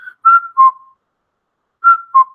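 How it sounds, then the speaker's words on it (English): A strange, loud whistling sound: a short high note followed by two tones that step downward, then after a pause of silence the same falling two-tone figure comes again. "the crazy whistle"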